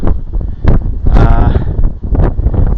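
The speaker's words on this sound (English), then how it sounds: "You might hear in the background it's a little bit windy" Wind gusts buffet the microphone in low rumbling bursts on a hillside along the West Highland Way in Scotland, steady and close, with a brief lull near the end.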